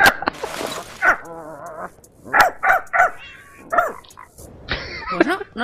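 Dog barks and yips in the Minecraft video game, several short bursts spaced across the stretch, fairly close and loud, with small whimpering cries mixed in.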